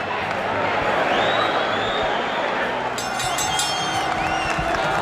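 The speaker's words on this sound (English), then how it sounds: "The crowd tries to liven itself up, try to provide some encouragement to Mike Tyson." A boxing arena crowd in Glens Falls, New York, during a Mike Tyson fight, a steady roar of cheering and shouting that rises in encouragement, with a commentator's voice running over it.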